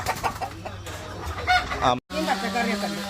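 Chickens clucking and squawking close by, several short calls in a row, with a person talking in the background.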